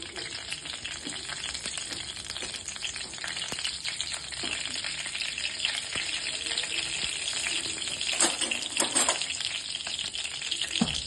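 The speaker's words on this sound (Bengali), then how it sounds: "কড়াইতে সর্ষের তেল দিয়েছি এবার জিরে ফোড়ন দিয়ে দিলাম" Cumin seeds temper in hot mustard oil in a kadai, making a steady close-up sizzle with a spitting, crackling texture that builds slightly toward the end. No voices are heard.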